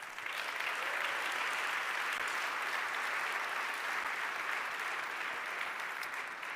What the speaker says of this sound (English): deserve another big round of applause for today